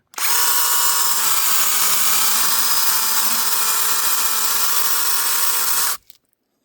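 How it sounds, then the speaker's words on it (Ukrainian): A Dnipro-M power saw cuts through a pear tree branch in a garden, giving a loud, steady high-pitched motor whine for about six seconds before it stops abruptly. "Ні, ну пилка топово ріже."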